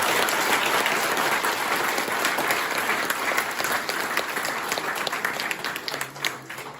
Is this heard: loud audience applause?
yes